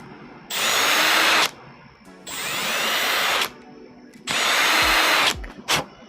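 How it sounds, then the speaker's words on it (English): A power drill boring out 3D-printed parts for an RC truck kit, three close, loud bursts of high-pitched whirring of about a second each, separated by short pauses and ending with a brief blip. "Okay, so let's drill these out."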